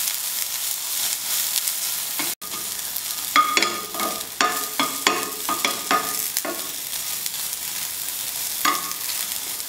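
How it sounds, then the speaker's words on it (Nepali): Soybeans frying in a pan as a step in making tomato pickle, with a soft background sizzle broken by repeated scraping stirs in short, irregular bursts, close by. "सोयाबिनलाई चाहिँ एकछिन मेरो हिटमा हल्का रातो रातो हुने गरी फ्राई गर्नुपर्छ।"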